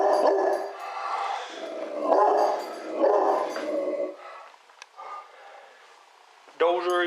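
Several dogs bark and yip excitedly in repeated loud bursts, close by, followed by a person talking and a final sharp yelp.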